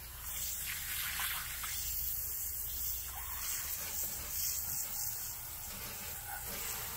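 A handheld water sprayer rinses freshly caught Kenai River salmon during cleaning, a steady close hiss and gush of spraying water that runs without pause for about seven seconds, with no voices.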